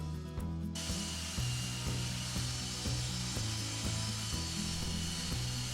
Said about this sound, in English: and then it's off to the table saw.